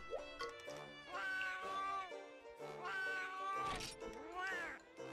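Cat meowing in the video game Monster Hunter Freedom, a series of drawn-out, tonal meows repeating one after another, clear and alone.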